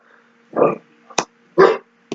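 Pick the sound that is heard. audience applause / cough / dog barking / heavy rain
dog barking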